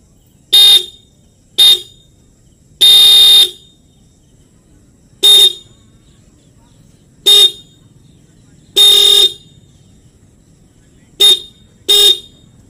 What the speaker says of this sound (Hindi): तो गाइस चलिए पहले हम हॉर्न की टेस्टिंग आपको करके दिखाते हैं